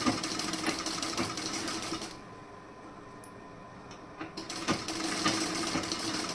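A sewing machine stitching piping cloth runs in a fast, steady rattle, stops for about two seconds with only faint ticks, then starts up again close and loud.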